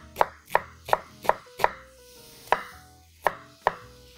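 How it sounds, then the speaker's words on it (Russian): A knife chops onion into medium pieces for a Polish village soup with bacon, giving about eight sharp, close thumps on a board, first in quick succession, then spaced out after a short pause. "Нарезаем лук и будем его обжаривать. Нарезаем средними кусками."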